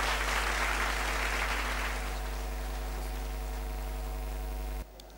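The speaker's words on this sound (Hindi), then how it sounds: "एक बार जोरदार तालियों से स्वागत करें।" Hall applause at a college Parents Day celebration greets the director taking the stage, loud at first, then thinning and fading over a steady electrical hum before cutting off abruptly.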